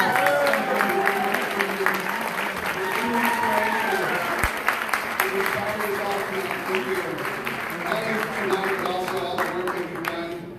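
Sustained applause fills a hall at a gala honoring graduates, steady and fairly loud for over ten seconds, with voices and calls woven through the clapping.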